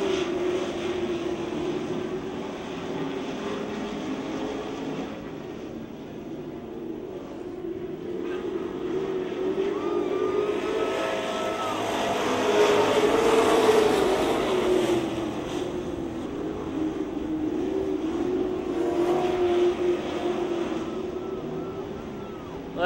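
Race cars lap a speedway oval, their engines droning steadily and swelling as the pack passes by, under a track announcer's continuous commentary.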